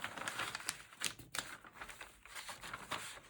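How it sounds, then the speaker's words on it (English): Sheets of trash-journal paper rustle, crinkle and bend close up, a steady run of dry crackling and sliding with sharp crisp bursts, alone with no talk. "So sorry for the paper noises, if that's a thing that bothers you."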